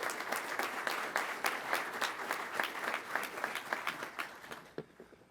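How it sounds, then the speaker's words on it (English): Applause at a pilot training class graduation ceremony, a sustained crowd of hands clapping steadily for about five seconds before fading out abruptly, moderately distant in a large hall. "So let's give them a round of applause."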